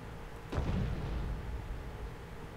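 Artillery fire in the War Thunder tank game, a single sharp, heavy boom striking early and rolling into a low, lingering rumble that fades slowly.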